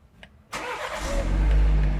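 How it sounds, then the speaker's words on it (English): A 2019-or-later BMW 330i (G20) engine cranks and fires after a brief quiet, then settles into a steady, loud, close idle rumble during water pump service. "Start the car."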